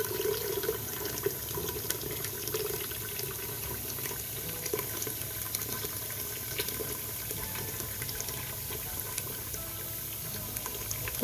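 Chicken broth is poured steadily from a container into a pot in a home kitchen, a continuous watery splashing and trickling that runs unbroken at moderate level for the whole stretch, with no talking.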